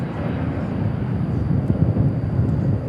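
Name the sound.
airplane at DFW International Airport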